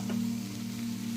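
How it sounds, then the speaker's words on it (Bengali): Eggplant fries with spices in a pan for a dried fish curry, a low, steady close sizzle with faint stirring scrapes and a constant hum, no voices. "মশলার সাথে ভালো করে ভাজবো"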